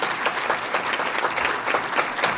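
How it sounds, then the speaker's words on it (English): An audience at an annual healthcare summit applauds teachers, with dense, sustained clapping from a large crowd that is fairly loud and continuous with no talk over it. "let's just stop right now and applaud and do an applause for our teachers."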